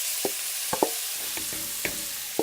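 Four onions dumped into oil and butter over low heat sizzle steadily in a pan, with a handful of short scraping knocks as they are stirred; no one speaks.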